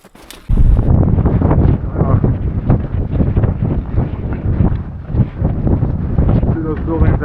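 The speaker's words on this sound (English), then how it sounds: "It's getting windy as well." Gusty wind buffets the microphone on a snowy winter mountain trail on Bogd Khan Mountain in Mongolia, a loud, continuous rumble after a brief quiet start, with a person talking over it throughout.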